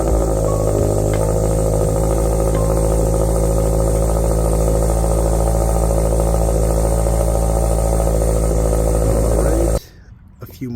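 A Toyota GR86/BRZ fitted with an AWE Touring catback exhaust idles with a loud, steady, deep rumble close by. Near the end the engine note cuts off abruptly, leaving quieter background.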